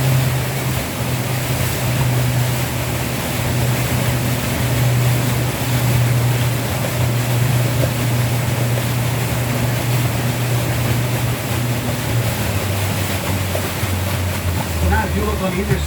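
A steady low tour boat engine drone runs throughout, with broadband water and wind rush over it, as the boat motors along the Waccamaw River at a constant pace.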